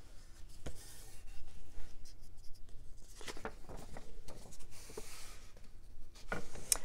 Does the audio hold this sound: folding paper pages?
yes